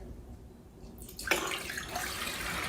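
Water from a kitchen tap, drawn while making focaccia dough, begins after about a second of near quiet and runs as a steady, fairly close rush that swells slightly before evening out.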